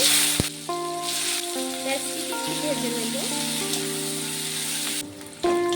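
Chopped onion fries in hot oil in a home kitchen, giving a loud, steady, crackling sizzle that continues without a break, with a faint melodic tone running underneath.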